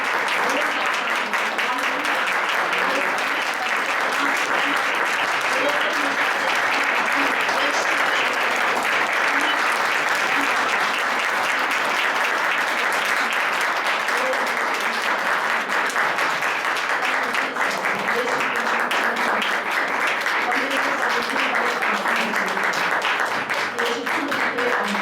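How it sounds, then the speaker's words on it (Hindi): A congregation at a Christian worship service applauds together, a dense, continuous clapping that holds steady and fairly loud for the whole stretch. "सारे मिलकर के ताली बजाओ"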